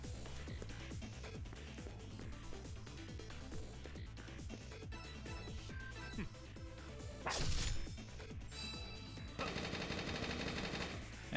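Gatling Wave gunfire attack in the video game Lost Dimension: rapid rattling bursts of shots over game music, with a brighter blast near the middle and a sustained metallic barrage toward the end, fairly quiet overall.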